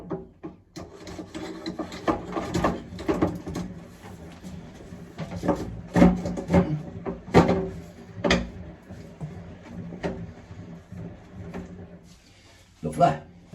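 Screws are driven into a wall to mount an infrared heater panel, heard as close rubbing, scraping and creaking turns with uneven thumps, while a person talks over the work.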